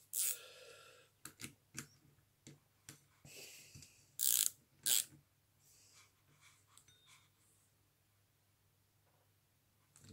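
Tools tightening parts while a 103 SPA moped variator is reassembled give sparse, close metallic clicks and ratcheting taps, with a few louder knocks over a faint low hum and no talking.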